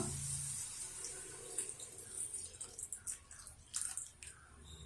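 Second extract of coconut milk poured into a pan of egg gravy, a soft liquid splashing and trickling that runs close and quiet for a few seconds with no one talking.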